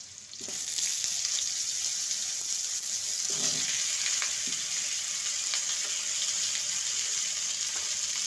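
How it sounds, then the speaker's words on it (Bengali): Raw banana and potato pieces fry in hot mustard oil, giving a steady, close hiss and sizzle that holds evenly from start to finish, with no talking. "প্রথমে কাঁচকলা আর আলুকে ভেজে নেব।"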